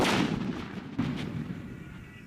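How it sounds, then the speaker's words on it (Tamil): A country-made colour bomb firecracker bursts twice in quick succession, two sharp outdoor bangs with short echoing tails. "நாட்டு வெடியில் உள்ள கலர் பாம்பை போட்டுருவோம் பிடிச்சிச்சு"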